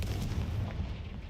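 A Confringo fire spell blasts in Hogwarts Legacy, a dense, booming rumble that stays loud and heavy for its whole brief second-plus, with no voices.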